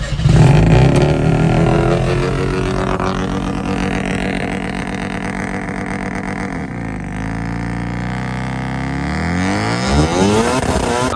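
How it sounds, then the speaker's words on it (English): A vehicle engine revving hard under load during a short burnout, loud and close, with a rising, strained roar that holds steady before easing off and then surging again. "I'm gonna give it a little bit of load and see if it does a little burnout"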